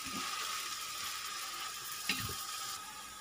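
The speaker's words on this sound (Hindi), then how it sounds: "अब इसे हम थोड़ा अच्छे से फ्राई कर लेंगे प्याज को" Onion frying slowly in a pan produces a quiet, steady sizzle, with one brief clatter of a utensil partway through.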